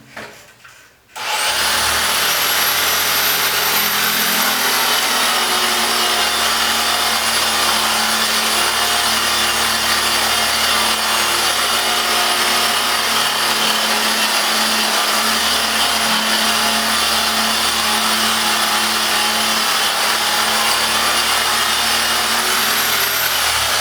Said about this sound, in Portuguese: eu vou voltar a passar a politriz novamente, é só mais ou menos uma demonstração